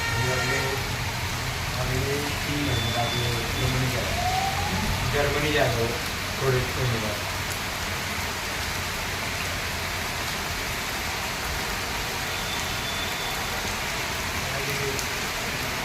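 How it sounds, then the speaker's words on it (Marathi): Steady, dense rain pours down throughout in windless, sunny weather in Govind Nagar, Nashik, with a faint voice briefly audible beneath the downpour early on. "पाऊस कोसळताना दिसतोय तुम्हाला"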